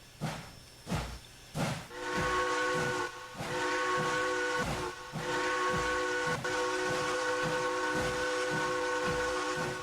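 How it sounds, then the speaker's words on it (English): A steam locomotive on the Mattapoisett Peninsula Railway sounds a loud, sustained multi-tone whistle that runs for most of the stretch, over rhythmic chuffing and hissing steam. Two sharp exhaust puffs come first. "It was an attempt at a proper whistle there."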